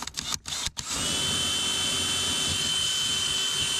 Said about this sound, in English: I'm gonna take a small drill bit just to go in here